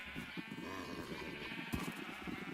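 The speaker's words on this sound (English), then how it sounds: "I put more dark gray sheep in here" Dark gray sheep in the Minecraft video game let out a faint, wavering bleat over a soft, steady background hum.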